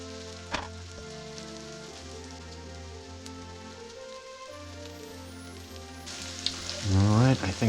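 Sausage frying in a pan for biscuits and gravy, a steady soft sizzle and crackle throughout, close and fairly quiet, with a louder burst of spitting near the end.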